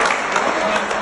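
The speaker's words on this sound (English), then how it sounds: "Don't fucking clap." A live audience claps steadily and densely for about a second, a continuous broadband patter without any speech.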